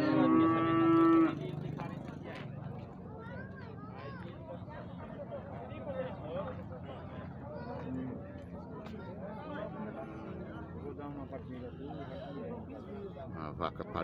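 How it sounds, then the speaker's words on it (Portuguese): Cattle and calves low loudly at a busy livestock fair in Surubim, Pernambuco, with a long close moo at the start and more moos amid constant crowd chatter and voices. "Bezerrinho aqui mamando."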